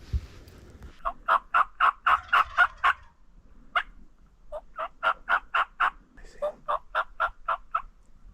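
Wild turkey gobbling during a bow hunt in Wyoming: three loud, rapid rattling gobble bursts, each a quick series of about eight pulses, separated by short pauses, with a single brief call between the first two.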